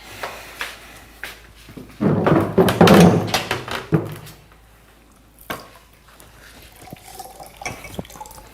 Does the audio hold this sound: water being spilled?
yes